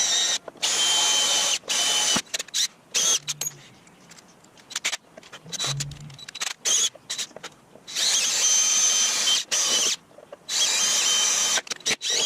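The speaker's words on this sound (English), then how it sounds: "I need to drill out those 3 rivets to take this piece out" A power drill works on rivets on a part from a 70-year-old car engine, whining in repeated bursts with short pauses and slower grinding stretches between, close and loud.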